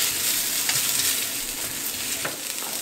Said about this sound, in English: I'm going to saute this up